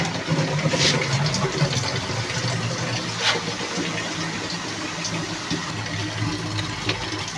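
Water fills containers at an RO water purification plant, a continuous rushing, gushing stream with a few sharper splashes and clanks, moderately loud and without talk.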